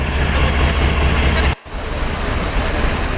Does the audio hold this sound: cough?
no